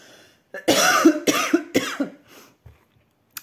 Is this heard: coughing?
yes